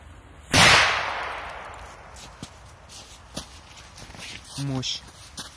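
A blue P-2000 firecracker goes off with one sharp, loud bang that decays into a long hissing tail, followed by small crackles and faint sounds of people moving.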